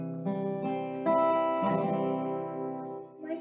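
An acoustic guitar is strummed in a classroom, with a few sustained chords rung out and restruck at a moderate, unhurried pace, close and clear with no talking.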